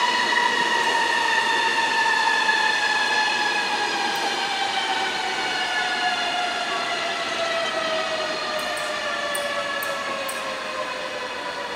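A train rolls steadily into the siding at St. Moritz terminus station, a loud continuous rumble with ringing wheel tones that slowly drop in pitch as it moves, with no voices.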